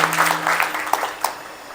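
Brief clapping from an audience at a Marathi kirtan, with a few sharper claps standing out over a busy background hum, lasting under two seconds.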